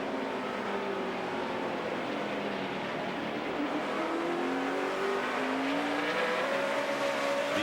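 NASCAR Sprint Cup stock cars at the 2008 Tums Quikpak 500 roar steadily around the track, a continuous loud engine drone with rising and falling pitch as cars pass and accelerate, no talking.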